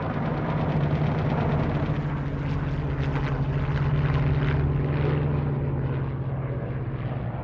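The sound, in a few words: Japanese torpedo planes and bombers in aerial dogfight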